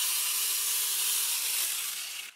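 A homemade battery-powered chainsaw runs at idle with no load, giving a steady, loud high-pitched whir and rattle that holds evenly before easing off at the very end.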